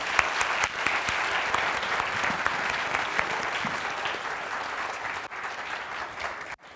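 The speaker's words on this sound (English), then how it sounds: "Round of applause." An audience gives a round of applause, dense steady clapping from a crowd filling the room, sustained at even loudness before tapering at the end.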